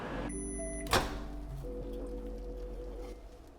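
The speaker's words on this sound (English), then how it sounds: "we're gonna microwave it again" Microwave oven heating oats: a quiet, steady hum with a beep or click near the start, then a low, continuous droning tone.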